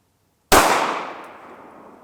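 A single sharp 9mm gunshot firing a Hydra-Shok DEEP round into a ballistics gel block outdoors, loud and close, with a sudden onset and a ringing decay over about a second and a half.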